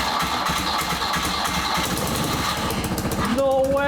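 A custom-built motorcycle engine running after a new Valeo starter motor was fitted, a loud, steady, rapid idle throb that continues throughout, with a voice briefly heard near the end.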